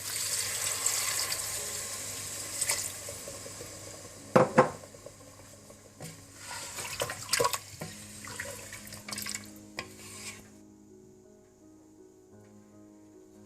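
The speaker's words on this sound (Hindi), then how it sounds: "इसके बाद इसमें मैं अब पानी ऐड कर दूंगी 3 से 4 गिलास।" Water from a glass poured into a pot of well-fried mutton for nihari, a sustained splashing wash with a few clinks of utensils against the pot, fairly close and with no talking.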